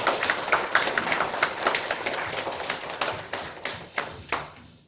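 A church congregation at a Sunday service applauding together, rapid dense clapping that stays loud and even before thinning out and fading at the end.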